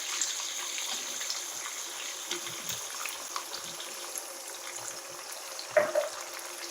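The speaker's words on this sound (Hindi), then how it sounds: "तो इसके बाद हम इसमें पानी ऐड करेंगे हाफ कप।" Half a cup of water is poured into a chicken karahi, a steady faint gush of liquid close by, closing with a brief louder splash.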